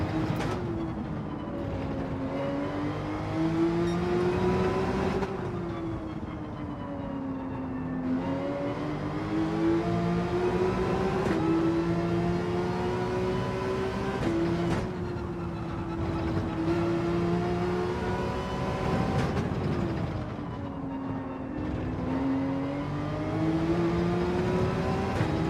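Gran Turismo 7 race car engine, a GR.3 class car, droning loudly and continuously, its pitch climbing through each gear and dropping at every shift, with a cyclic rise and fall and no talk.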